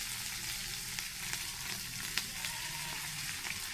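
Spiced pieces of catla fish frying in oil on a tawa over a wood-fired chulha give a steady, close, dense sizzle with faint crackles throughout, and no voices.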